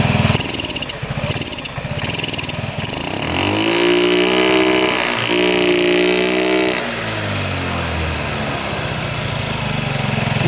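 A scooter engine runs choked and flooded with too much fuel, a loud, close, rough drone that bogs and wavers in pitch mid-run before settling back to an uneven idle.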